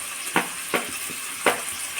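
Onions frying in a pan, with a low steady sizzle under three or four soft scraping stirs spaced irregularly, close and moderately quiet, no voices.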